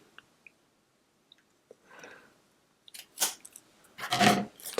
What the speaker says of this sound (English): And again, I will trim it with my scissors.